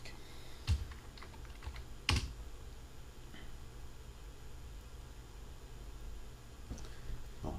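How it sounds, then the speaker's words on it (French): Sparse keystrokes on a computer keyboard, a few distinct clicks spread out over steady background hiss, close and fairly quiet, during a classroom tutorial session. "le clavier, je suis en train de chercher parce que c'est notre clavier."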